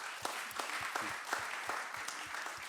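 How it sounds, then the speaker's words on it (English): A conference audience applauds, a light, fairly quiet patter of scattered claps with distinct individual hand strikes, short and somewhat distant. "Bas needs a special round of applause"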